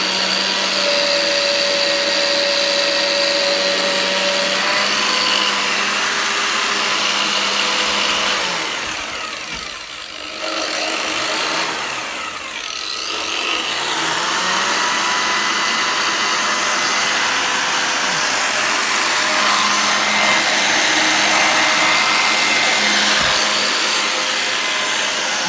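Vacuum cleaner running at maximum suction power, a loud steady motor whine and airflow roar that dips briefly midway and then settles back to a constant drone.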